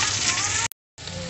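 Banana pieces frying in hot cooking oil give off a steady, close, loud sizzle, cut by a brief silent gap before the bubbling resumes.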